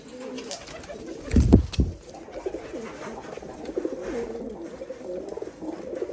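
A pigeon coos in one short, low burst near the start, then fades into a quiet, steady background with no further calls.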